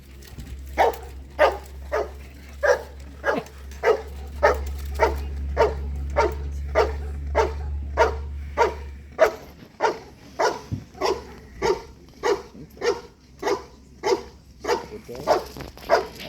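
Working German Shepherd barking in a steady rhythmic series of loud, close barks during an IGP protection search demonstration at a breed specialty event, with a low hum underneath for the first half.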